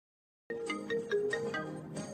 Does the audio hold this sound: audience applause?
no